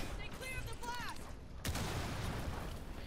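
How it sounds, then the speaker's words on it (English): Voices at the start, then a sudden heavy blast from Rainbow Six at about the midpoint, followed by a loud, rumbling, gunfire-like roar that continues to the end. "You just hear an explosion."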